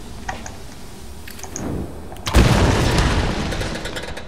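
An explosion in the Tomb Raider video game lands as a deep boom after some light clicks and a small thump, followed by a sustained rumbling roar that stays loud.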